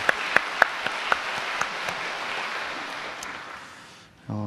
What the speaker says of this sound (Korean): 하나님 앞에 감사와 영광의 박수 올려드리겠습니다